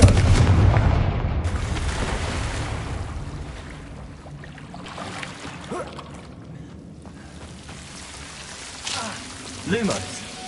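A Confringo fire spell blasts loudly in Hogwarts Legacy, opening with a heavy explosive boom that fades into a rumbling, crackling tail, followed later by a couple of smaller magical whooshes and bursts.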